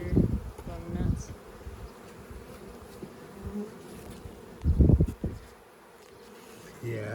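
A swarm hive of honeybees hums with busy, continuous buzzing during an inspection, with louder passes as individual bees fly close to the microphone.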